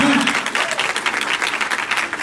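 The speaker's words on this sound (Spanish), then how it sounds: "Un aplauso." Loud, sustained applause from a church congregation, continuous clapping filling the whole stretch without pause.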